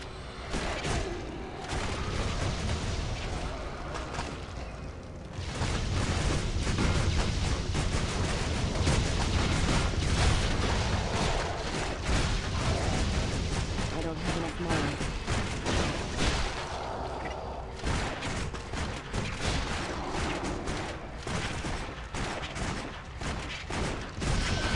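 Cannon fire and explosions in the Torchlight 2 video game form a dense, continuous barrage of booms and blasts for about twenty-five seconds, loud throughout with only brief dips.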